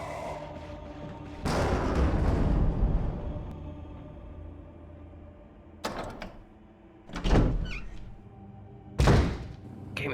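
Doors in the Spencer Mansion of the video game Resident Evil, a heavy thunk followed by a long rumbling swing, then several sharp loud knocks and bangs spaced a few seconds apart over a low ambient drone.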